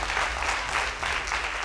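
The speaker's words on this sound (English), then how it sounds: "A round of applause to the winners of this season's Nationals at the Debate Circle" Dense, steady clapping fills the room at a national school debate competition grand finale, as an audience applauds the season's winners without a break.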